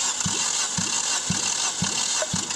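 Nissan Almera Classic 2007 with a 1.6-litre 16-valve QG16 engine cranking during a compression test on the first cylinder, five evenly spaced starter-motor compression pulses under a steady high whine, close and alone.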